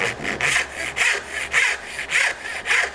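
A hand saw cuts a wooden dovetail joint in rhythmic back-and-forth strokes, about six even rasping pushes close up, each a bright scratchy burst with short gaps between, no voices.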